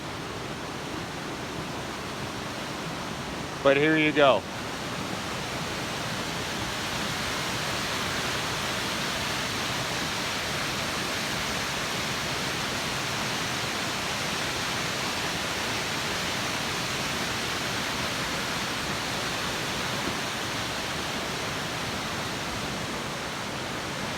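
Steady, full roar of the Pine Creek trail waterfall in Southwest Montana, a dense continuous rush of falling water that holds evenly throughout, with a brief spoken phrase near the start.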